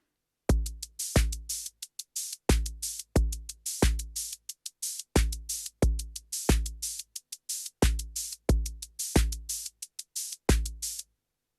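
Korg Volca Drum running a simple Easy Rap Backing beat, punchy kick and snare hits in a steady repeating pattern with short gaps between, loud and dry with no voice over it.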